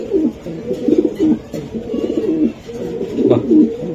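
Racing pigeon cooing close by in repeated low, throaty rolling coos, a steady run of calls with a louder burst near the end.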